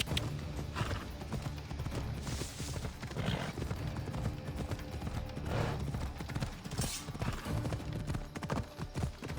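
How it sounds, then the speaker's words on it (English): Horse hooves clip-clop in a steady, continuous rhythm throughout a scene in the video game Assassin's Creed Odyssey, moderately quiet amid a busy background wash. "Looks like a sturdy horse."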